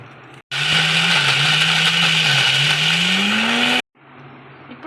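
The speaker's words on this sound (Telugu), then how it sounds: "ఇప్పుడు చల్లగయ్యాక దీంట్లో వెల్లిపాయ వేసేసుకొని మిక్సీ వేసేసుకుందాం." A mixer grinder runs at full speed for about three seconds, blending coconut chutney with garlic. It starts and stops abruptly, and its whine drifts slightly higher toward the end. The sound is loud and close, with no talk over it.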